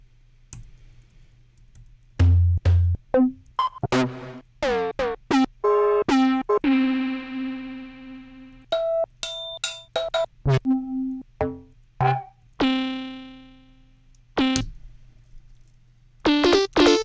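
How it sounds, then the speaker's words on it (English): A sample played through Ableton's Hybrid Reverb effect, sharp percussive hits and short tonal stabs with ringing tails that bloom and decay between gaps, close and loud with no voices. "Hybrid reverb. Thank you, Ableton."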